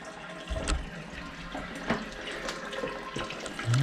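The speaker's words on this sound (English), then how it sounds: "Okay, so it's filling." Water runs steadily into a newly installed Toto Aquia IV toilet tank, giving a continuous close rushing fill with a few splashy peaks.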